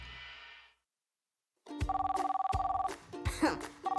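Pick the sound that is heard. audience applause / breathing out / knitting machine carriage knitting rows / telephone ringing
telephone ringing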